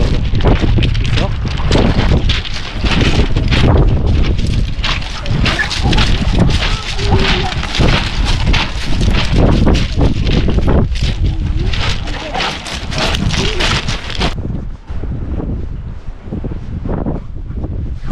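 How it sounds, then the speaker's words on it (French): Strong wind buffets a microphone outdoors on the Normandy coast near Saint-Valery-en-Caux, a loud continuous rumbling roar with gusty pulses that eases slightly near the end. "Par contre, il y a du vent."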